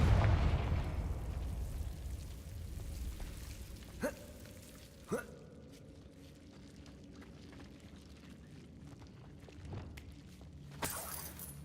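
Confringo fire spell blasts in the Hogwarts Legacy video game: a large burst at the start, then sharp cracking impacts around four and five seconds and again near the end, fading into a quiet ambient hall.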